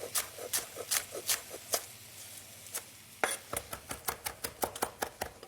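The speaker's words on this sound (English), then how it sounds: "scrunch up the parsley and then roughly chop it" A knife roughly chops parsley on a board, sharp rapid thuds in two bursts, first a loose run then a faster even rhythm, close and crisp with no voices.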